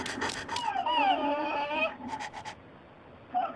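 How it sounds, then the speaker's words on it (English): A dog in the horror video game Ju-On: The Grudge gives a whining, wavering yelp with short sharp barks around it, heard close and on its own. "Look, dog."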